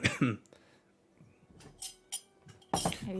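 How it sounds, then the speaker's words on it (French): Short, sharp coughs from a person, a burst at the start and a louder one near the end, with faint clinks and quiet room sounds between them. "Ah, j'ai un peu la toux"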